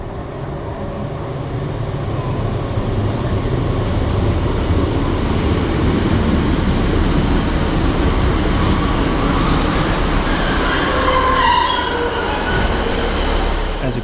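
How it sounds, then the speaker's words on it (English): A British Rail Class 150 train on the Dartmoor Line rumbles in steadily and loudly, wheels grinding on the rails, with a faint squeal and hiss building as it slows. "now it's time to take a look at the arrival of my next train"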